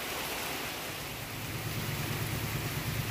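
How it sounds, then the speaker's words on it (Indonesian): Heavy rain pours down steadily near a railway line, a dense hiss of water with a low rumble rising underneath toward the end. "Hujannya gede."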